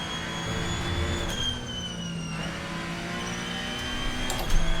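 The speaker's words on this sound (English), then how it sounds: "you can just hear it coming through the car. Sounds fantastic on throttle." Ferrari race car engine in the Assetto Corsa video game at Mugello, a steady high-pitched roar on throttle with smoothly shifting tones, loud and continuous with a slight swell near the end.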